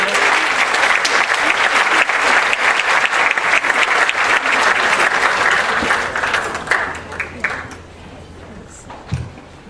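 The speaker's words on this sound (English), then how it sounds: "Please give him a round of applause." An audience at an Interfaith Committee for Workers Justice meeting claps for school board members in a dense, steady burst of applause that thins out and fades toward the end.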